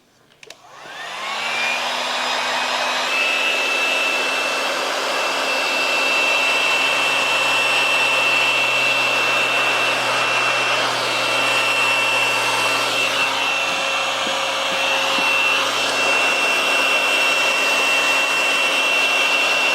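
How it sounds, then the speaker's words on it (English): A heat gun blows steadily to shrink precut window tint film against a curved car window, starting with a click and then a loud, even whooshing hum that holds for the rest of the clip. "Now we're going to use our heat gun to shrink our fingers."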